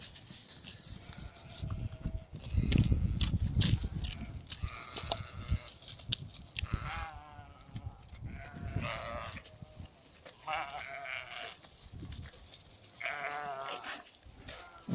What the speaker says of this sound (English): I think the sheep are lying under the oak where I was heading.